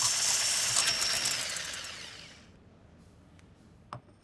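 A blender motor whirs loudly at high speed whipping coffee, sugar and water into foam, then spins down and falls quiet, followed by a couple of small clicks.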